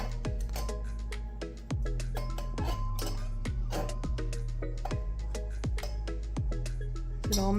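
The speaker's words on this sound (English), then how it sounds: "Now stir it up with our stirring utensil." A utensil stirs a mixture inside a glass container for a kids' science experiment, making a regular series of close clinks and taps against the glass over a low hum, with no talking.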